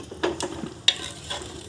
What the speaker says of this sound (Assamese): সেইকাৰণে আমি লগাতাৰ একদম লৰাই থাকিব লাগিব।